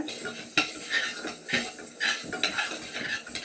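Rice and chana dal dry roasting in a pan on low flame, with a spoon repeatedly scraping and clinking against the metal in an uneven rhythm, close-up and distinct over a faint background hiss.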